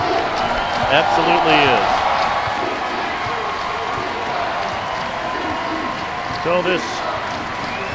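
A crowd of about 6,800 basketball fans at Savage Arena in Toledo stands and cheers through the final seconds of a college men's game, a loud, steady roar under nearby commentary.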